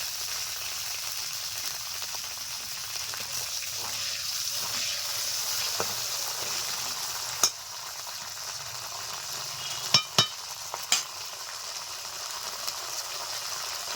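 Soybean oil hissing and sizzling in a pan while cooking a Bihari-style chicken curry, a steady low frying hiss with a few isolated clicks and taps toward the end.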